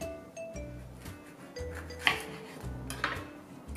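Strawberries are mashed in a bowl for a face mask, and a utensil scrapes and clinks against the dish in short bursts. Two sharper knocks stand out over a low, uneven rubbing.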